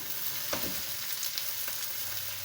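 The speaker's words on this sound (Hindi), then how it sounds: "अब सबसे पहले मैं इनको फ्राई कर लूँगी" Okra sizzles steadily in about half a cup of hot ghee, a soft, even crackling hiss with a few brief spits, fairly quiet and heard alone without voices.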